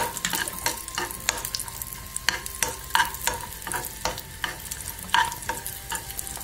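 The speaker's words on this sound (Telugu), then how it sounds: "జీడిపప్పు కొద్దిగా వేగాక దానిలోనే కిస్మిస్ను కూడా వేసేసుకుందాం." Cashews and raisins frying in a pan for wheat rava kheer, a light sizzle under steady, rhythmic stirring scrapes from a spoon, close and fairly quiet.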